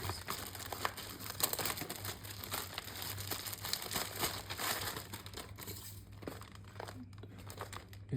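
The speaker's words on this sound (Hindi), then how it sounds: "ऐसा एयर फील्ड पैकेजिंग में आता है, वेल प्रोटेक्टेड मेरे हिसाब से तो एकदम" Air-filled protective packaging from a DJI Action 2 accessory order being handled: close, continuous crinkling and crumpling of plastic with irregular soft crackles, quiet overall and with no talk.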